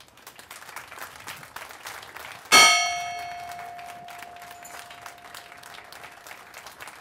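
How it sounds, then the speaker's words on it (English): A single bell is struck once and rings out with a long, fading hum over quiet background murmur from a gathered crowd. "Eric Hunter will ring the bell for those who are injured or have died in the Iraq conflict."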